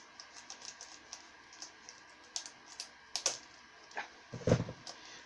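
Sealed DVD package being opened: faint, scattered crinkling and tapping clicks of plastic wrap, close and quiet, with one louder rustle near the end and no talking.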